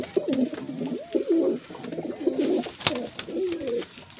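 Soft, repeated throaty cooing of pigeons, several phrases in a row, close by with faint background noise.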